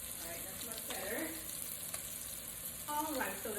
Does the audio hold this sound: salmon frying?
yes